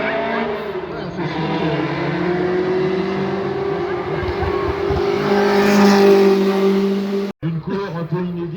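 A Peugeot 205 at a historic hill climb drives past, its engine holding a sustained droning note that swells toward the middle and then cuts off abruptly, with voices talking in the background.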